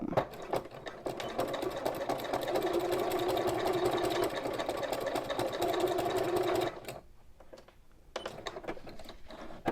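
A sewing machine stitches fabric with a fast, steady mechanical whir and rapid needle clatter for several seconds, then stops, followed by a few scattered clicks and handling noises.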